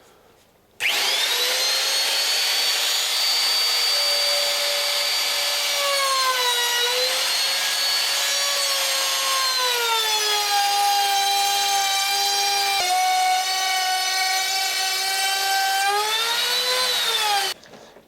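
A router runs continuously through timber for a boom or gaff spar, a loud close whining drone whose pitch dips and shifts as the cut progresses, starting abruptly and stopping near the end, with no one talking.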